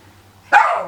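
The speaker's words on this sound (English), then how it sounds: "George has just decided to have a little bark" A dog barks once indoors in a crafting room, a single sharp, fairly loud bark after a quiet moment, trailing off briefly.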